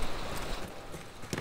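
Horse hooves clip-clopping in the Battlefield 1 multiplayer game, a brief run of soft, rhythmic hoofbeats set in a busy, noisy battlefield background.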